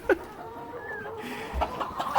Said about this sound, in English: Yeah, it's a chicken.